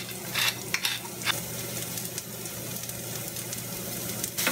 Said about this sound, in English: heat 1 teaspoon of olive oil on medium-high until hot. Add the potato and seasoning with salt and pepper.